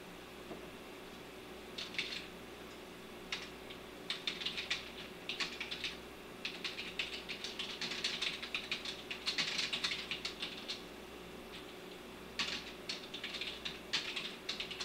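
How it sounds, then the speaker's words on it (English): A computer keyboard is typed on in quick, irregular bursts of clicky keystrokes, heard close, with brief pauses between runs over a faint steady hum. "yeah, I guess the typing comes through pretty loud"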